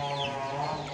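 A chicken clucks and calls steadily and close by, a dense, continuous bird sound with no talking.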